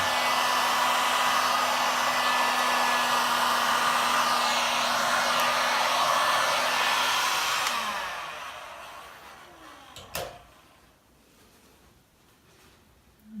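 Heat gun blowing across a resin pour, a steady loud whooshing hiss that fades after about eight seconds as it shuts off, followed by a brief clatter and quiet.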